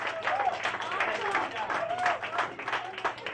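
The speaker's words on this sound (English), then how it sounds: "I want you guys to clap it up for yourselves" Comedy roast audience at a live show clapping for themselves, a steady patter of applause with overlapping voices and a host talking over it.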